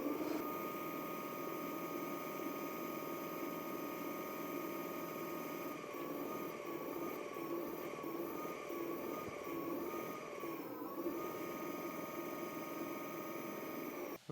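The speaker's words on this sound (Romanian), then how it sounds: "La cât de frumos se aude motorul" An Ezotron E200 electric scooter motor running at speed, likely without a Hall sensor, giving a steady tonal whine with harmonics that dips slightly in pitch late on, continuous and fairly quiet.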